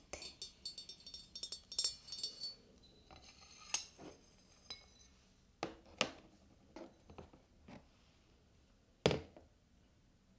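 Cups and dishes clink in a quiet room as a hot drink is served: scattered light clinks, knocks and taps, a few louder sharp ones, with soft rustling in between.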